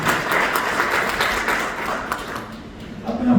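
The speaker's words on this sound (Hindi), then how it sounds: "तालियां बजा सकते हैं।" Audience applause at a blockchain awareness program in a hall, a steady wash of many hands clapping that carries on throughout and thins slightly toward the end.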